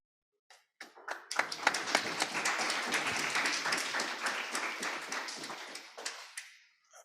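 Audience applause after a conference talk on playful engagement in public spaces: a few scattered claps swell into a full, dense round of clapping, then taper off to isolated claps at the end.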